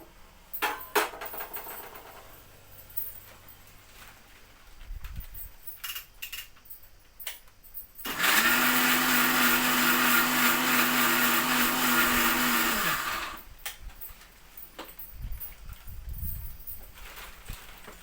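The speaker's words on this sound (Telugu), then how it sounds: "నేనైతే ఇప్పుడు ఉల్లిగడ్డలు వేసుకొని మిక్స్ అయితే పట్టుకుంటున్నా" An electric mixer grinder whirs loudly and steadily for about five seconds, blending onions with peanuts into a chutney, with quieter kitchen clatter before and after.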